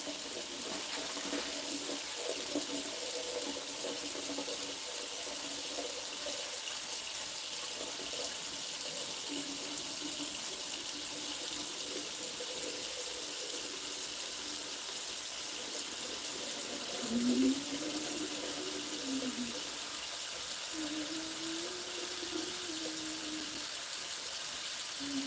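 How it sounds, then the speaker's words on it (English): Tap water runs steadily into a kitchen sink during morning green juice preparation, a constant hissing rush with faint clinks and shifting tones underneath, continuous and close. "I'm just letting the water run while I sort out other things."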